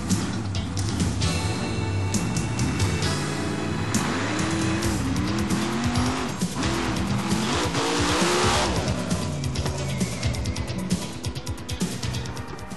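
A Monster Jam monster truck launches and drives over a set of cars, its engine roaring loud and close in a continuous, surging rev with no pauses or talk.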